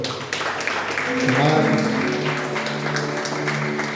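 Steady applause from a church congregation during an evening service, filling the few seconds under a voice over a microphone and music.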